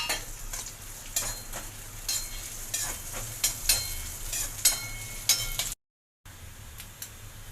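About two tablespoons of coconut pieces fry and get stirred in a pan, a steady sizzle broken by sharp scraping strokes of a spoon, close up, with a brief gap of silence near the end.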